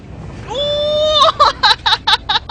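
A vehicle driven in the dinosaur-park game Jurassic World Evolution: a steady, rising engine-like drone settles into a held tone, then breaks into a rapid series of loud, rhythmic pulses, with no talk over it.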